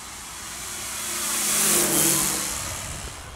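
A large 2 m balsa Turbo Timber model plane on 6S electric power drones as it passes, swelling louder toward the middle and fading away again, a buzzing whine with no talking.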